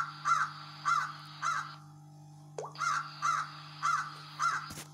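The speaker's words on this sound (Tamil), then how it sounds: "காக்கா எப்படி கத்துன்னு பார்க்கலாமா" Crow cawing in a steady series of harsh calls, about eight caws in two groups with a short pause between, loud and close over a faint constant background hum.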